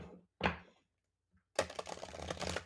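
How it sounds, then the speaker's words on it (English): Mini tarot deck being shuffled by hand, a short riffle burst, a pause, then a longer run of rapid card flutter and clicks, close and fairly quiet. "So let's just give the cards a little bit of a shuffle."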